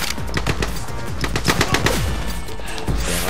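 Video game gunfire from The Club in the Venice canals level, with rapid bursts of loud, closely spaced automatic shots and sharp echoing cracks throughout.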